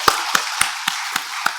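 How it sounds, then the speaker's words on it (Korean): Slow, evenly spaced claps, six sharp hits about a quarter second apart, come from a church congregation clapping in praise during a Sunday worship service, close and moderately loud with no talk over them. "하나님께 영광의 박수."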